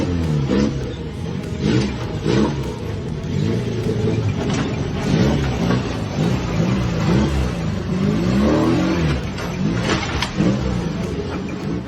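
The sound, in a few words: battered old car engine running and rattling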